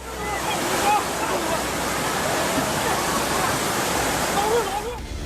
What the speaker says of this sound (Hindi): मूसलाधार बारिश की वजह से सड़कें तेज बहाव वाली नदियों जैसी दिखने लगी हैं।